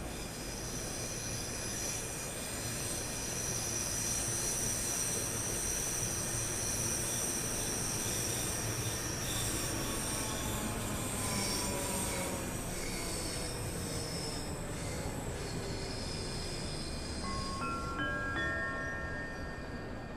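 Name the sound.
train 314 arriving at Cathcart station, video game Train Sim World 3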